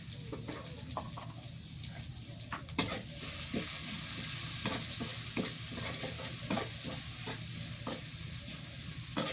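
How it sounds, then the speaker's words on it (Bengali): Chopped onions fry in a pan with a steady hiss, stirred with repeated scraping taps as the cooking continues, close and moderately loud. "পেঁয়াজ ভাজা হয়ে গেছে"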